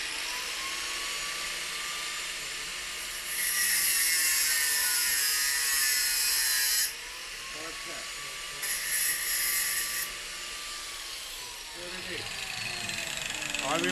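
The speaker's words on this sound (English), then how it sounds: "And this is done by angle grinder. Angle grinder coming." An angle grinder cuts through the end of a motorcycle clutch cable in a few loud high-pitched whining bursts separated by pauses, with the motor spinning down between cuts and someone speaking quietly in the gaps.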